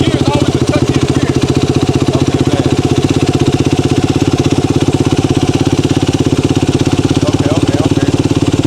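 A stunt motorcycle engine idles steadily in first gear, a loud, close, even mechanical putter that runs unbroken throughout with no other sounds over it.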